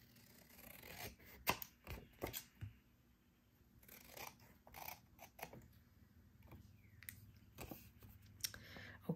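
Scissors snip through a paper trade card for a booklet, giving a series of close, crisp cuts in short irregular bursts with small rustles of paper between them.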